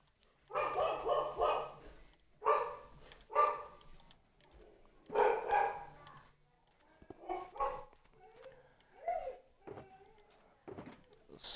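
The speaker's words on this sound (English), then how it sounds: "Sorry if dogs are coming through." Dogs bark near a window in a bursty sequence of loud woofs and yips, with fainter whimpering barks trailing off between them.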